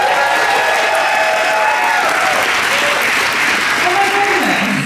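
A large audience at a show on a cruise ship applauds loudly and continuously, with cheers and whoops rising through the clapping.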